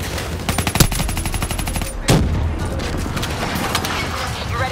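Cover fire in Call of Duty Black Ops III rattles out as rapid, loud machine-gun bursts with sharp single shots, followed by a heavy blast and continuing battle noise, with voices over the combat.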